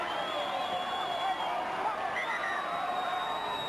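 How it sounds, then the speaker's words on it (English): A distant Leichhardt stadium crowd at a 1997 Balmain versus Manly rugby league match reacts to a Manly try with a sustained, steady roar and cheering. "And the Leichhardt crowd can't believe it."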